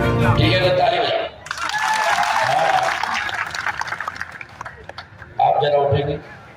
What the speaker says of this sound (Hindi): ठीक है, तो ताली बजाओ।